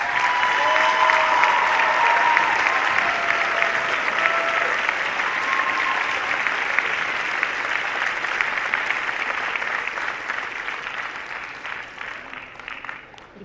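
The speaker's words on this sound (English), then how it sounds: "Please, a round of applause for everybody who works with the cadets." An audience at a youth challenge academy commencement gives a long round of applause for cadet staff, a full, steady wash of crowd clapping that slowly fades toward the end.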